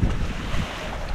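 Low rumbling wash of water and wind buffets the microphone as a boat moves along, with no voices.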